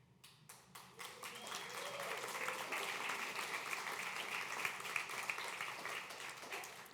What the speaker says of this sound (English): It's just so amazing to have clapping with a statement like that.